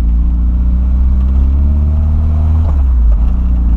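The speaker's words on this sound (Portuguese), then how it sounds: "O cara da Mercedona acelerou, mano." A Mercedes car accelerates with a loud, steady low engine rumble and revving throughout, the pitch shifting slightly near the end, with no voices.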